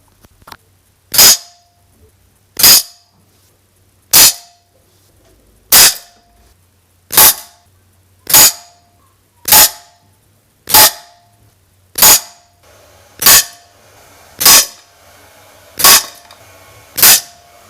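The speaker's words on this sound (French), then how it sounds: "Donc retour sur les tirs avec les H&N Barracuda." Air rifle firing H&N Barracuda pellets during scope-adjustment test shots, eleven sharp cracks spaced about every one and a half seconds, each followed by a short ringing decay, with faint background hum and no talk.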